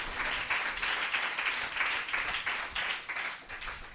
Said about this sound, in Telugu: చప్పట్లు కొట్టచ్చుగా